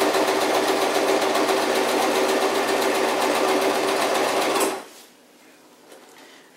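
Sewing machine running a straight stitch along a bivy sack, a loud steady motor whir with fast rapid needle ticking for nearly five seconds, then stopping abruptly into quiet.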